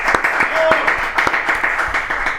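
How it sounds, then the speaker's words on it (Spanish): At a public talk in Paraguay, an audience welcomes a speaker with scattered, distinct handclaps that pop out separately rather than merging, mixed with voices murmuring in the room. "Así que el aplauso para recibir a Pedro Galli Romañac."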